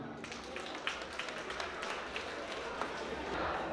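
An audience at an evening cultural gathering applauds, a faint, steady patter of claps with scattered sharper hand strikes, distant and thin throughout.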